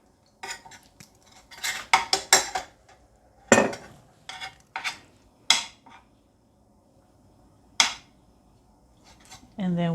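A metal spoon scrapes and clinks against a container while scooping miso paste, a scatter of close, sharp taps and scrapes with pauses between, ending in a brief sustained tone.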